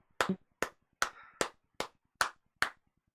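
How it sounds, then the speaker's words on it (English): Seven sharp, separate hand claps at an even pace, close and fairly quiet in an otherwise silent room. "Give you a few claps here."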